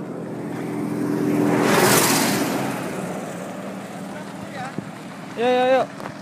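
A distant car drives past, a broad whoosh that swells and fades over a couple of seconds. A brief voice is heard near the end.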